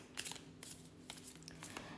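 A deck of cards being shuffled, quiet riffled bursts of flicking paper in several short clusters over two seconds, close and soft.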